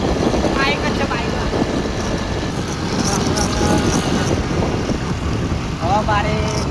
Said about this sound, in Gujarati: બાઈક જ છે બાઈક